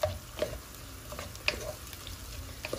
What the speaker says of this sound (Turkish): iyice kavuruyorum salçamı.